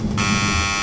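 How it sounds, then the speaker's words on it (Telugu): A Whirlpool washing machine sounds its end-of-wash buzzer, a loud, steady electronic tone that starts abruptly just after a brief stretch of room noise and holds for the rest of the short moment. "టైమింగ్ అయిపోగానే మనం ఏదైనా పనిలో ఉన్నా కానీ మనకు ఒక బజర్ సౌండ్"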